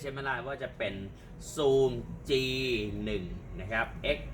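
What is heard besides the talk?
No everyday noise stands out behind the speech.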